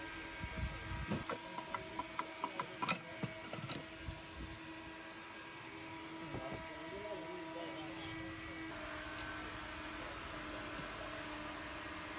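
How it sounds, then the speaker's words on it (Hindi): Metal gears from a Ford Figo gearbox being dismantled one by one in a repair workshop, with a burst of sharp clinks and knocks in the first few seconds, then a steady hum of background noise. "1 बाय 1 डिसेंबल कर रहे हैं गियर को"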